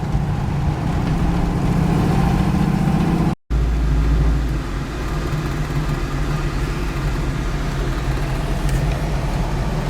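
A 1972 Pontiac Firebird on an evening ride, heard from inside as a continuous loud engine drone with rising revs early on, a sudden brief cutout, then a steadier lower cruising hum.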